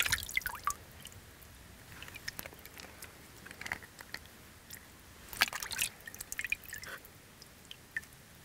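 Thawed mackerel being rinsed under water, with faint irregular drips, splashes and soft wet squishes of fish handled close by, quiet and uneven throughout.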